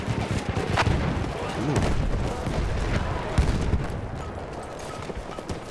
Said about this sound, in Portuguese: O cara jogou granada aqui.